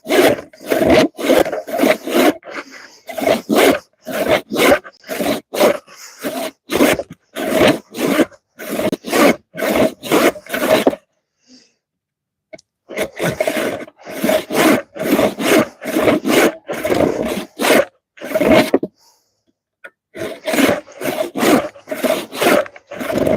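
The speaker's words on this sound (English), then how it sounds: "back to sawing" A hand saw cuts through wood in rhythmic back-and-forth strokes, loud and close, in three long runs separated by brief pauses.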